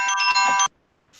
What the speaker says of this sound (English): it's so funny when the phone rings.